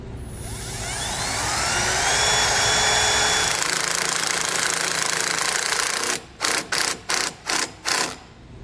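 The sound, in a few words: drill boring a hole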